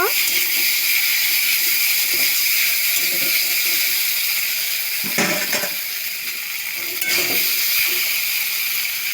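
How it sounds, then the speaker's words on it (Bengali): Boiled Maggi noodles frying in a pan with fried potatoes and peanuts, giving a steady, loud, close sizzle and hiss throughout, with a few brief clatters of the pan. "এখন আমি সিদ্ধ করা ম্যাগিগুলো দিয়ে দেবো, দিয়ে ভেজে নেব।"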